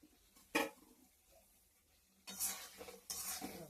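Fried teasel gourd pieces go into a pan of potatoes being cooked down with spices, setting off a bright sizzle and spoon-against-pan scraping in two bursts, the second long and loud, with a short clatter before them.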